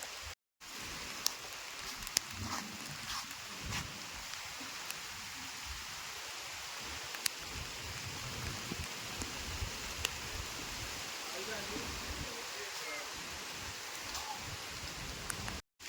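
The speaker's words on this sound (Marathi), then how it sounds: "हे बघा पूर्ण पाऊस पडता वरती त्या साईडला" Heavy unseasonal rain falls with storm wind in the Konkan countryside, a dense steady hiss of drops on surfaces with scattered louder patters, continuous and without voices.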